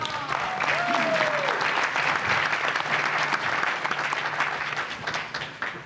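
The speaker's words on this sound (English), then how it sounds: "really special thanks and applause for Rob for doing what he's doing" Conference audience at a venture capital summit panel on energy investment and innovation applauds in a sustained, dense burst of clapping, with a brief voice or tone sliding in near the start.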